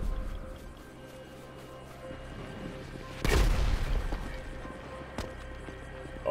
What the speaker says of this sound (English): Rocket launcher as always